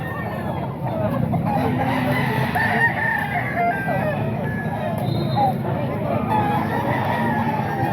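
A brass back stag rooster crows loudly and close, with clucking fowl around it and people chattering in the background.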